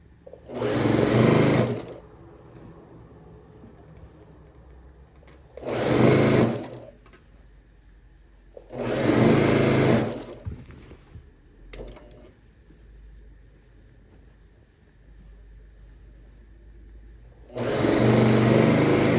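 Sewing machine stitching quilt block seams in four separate bursts, each a loud close rapid whirr lasting one to two seconds, with quiet pauses of fabric handling between runs.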